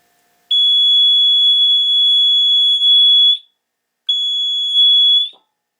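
A water leak detector alarm sounds a piercing high-pitched tone loudly, one long continuous beep of about three seconds, then a shorter second one after a brief pause.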